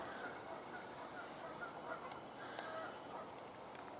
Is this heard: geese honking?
yes